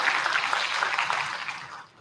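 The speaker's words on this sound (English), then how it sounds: "Give her a round of applause, please." Audience applause at an innovation week event in Nairobi for the Irish deputy ambassador, a dense, fairly loud wash of clapping that tapers off after about two seconds.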